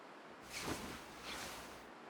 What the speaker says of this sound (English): Just windy.